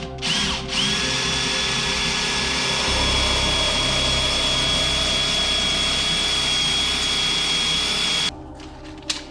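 A power drill bores a 4mm pilot hole for a Harley-Davidson sissy bar luggage rack mod, giving a steady, high whine for about seven seconds with no voices before it cuts off.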